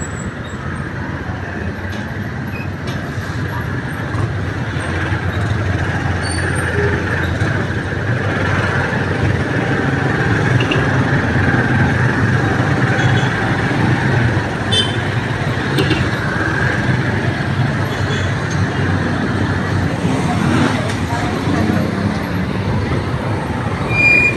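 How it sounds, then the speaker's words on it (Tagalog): Busy road traffic with many vehicles makes a steady, loud roar of engines and tyres, a dense wash of passing cars and heavier vehicles that continues without a break and has no clear speech. "marami ng sasakyan dito"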